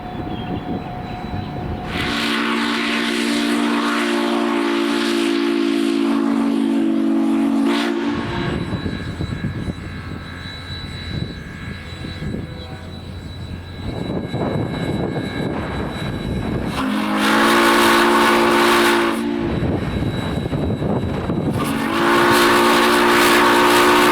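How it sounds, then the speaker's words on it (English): Steam whistle of US Sugar 148, a steam locomotive hauling the Sugarfest Special at the Clewiston Sugar Fest, sounding in several loud, sustained blasts separated by pauses, with the rumble of the train between them. "with a blast of the whistle, the Sugarfest Special embarked on its last run of the day"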